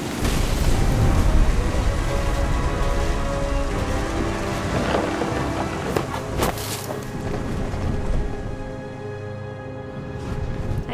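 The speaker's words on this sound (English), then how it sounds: "The thunder sounded much too close and full of angry power" Heavy rain pours steadily through a thunderstorm, with deep rolling thunder rumbling close and loud underneath, a few sharper crackling bursts midway before the downpour eases slightly toward the end.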